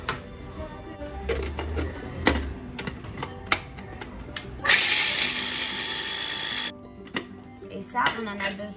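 Nuts are chopped for a pistachio rocky road babka, heard as sharp irregular knocks close by, with a roughly two-second rushing burst partway through and a voice speaking in between.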